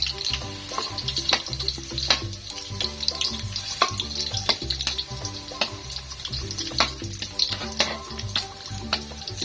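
Chopped garlic fries in a pan for octopus adobo in coconut milk, giving a steady dense sizzle and crackle with occasional stirring scrapes, close and continuous without talk.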